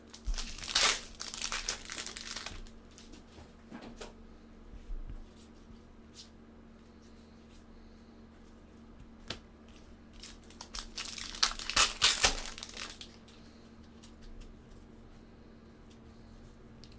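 A 2015 Bowman baseball card pack wrapper is torn and crinkled close by in two loud bursts of crackling, separated by a long quiet stretch holding a few faint clicks and rustles.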